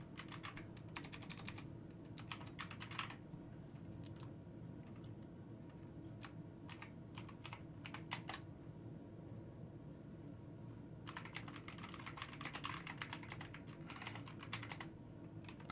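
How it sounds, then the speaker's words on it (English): Loud computer keyboard typing in bursts of rapid clicking, heavy near the start and again toward the end, with sparse keystrokes between over a steady low hum of room noise; no talking. "The keyboard is loud."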